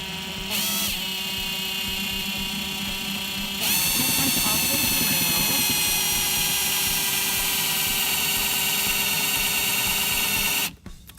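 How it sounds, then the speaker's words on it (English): A power drill whines continuously at high speed, briefly pausing early on before running steadily and then cutting off abruptly. "So we're just gonna put the drill bit on there, and we're going to drill."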